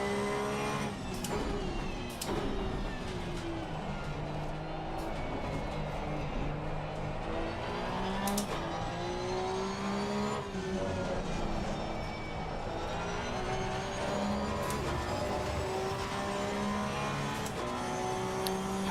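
Porsche 992 Cup race car at Spa Francorchamps, its engine loud and close, revving up through rising pitch sweeps with sharp breaks at gear changes, repeated several times without pause.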